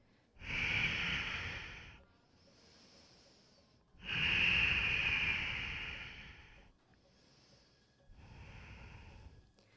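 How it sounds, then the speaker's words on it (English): Deep, audible breaths during a yoga flow stretch: a long inhale, a long exhale, then a softer shorter breath, each close and airy. "Breathing into the stretch."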